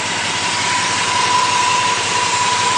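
An original truck engine runs quietly with no exhaust leak, giving a smooth, steady, even hum that holds unchanged throughout with no other sounds.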